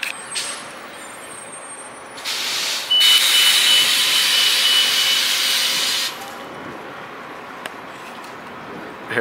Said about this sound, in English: Here goes the next bus coming.